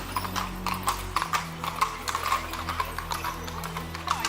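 Horse hooves clip-clop on a Vienna street as a horse-drawn carriage passes, a steady rhythmic clatter of hoof strikes over a low hum of traffic and ambient background.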